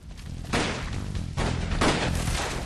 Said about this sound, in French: Le Kid met en place une diversion pour attirer les coups de feu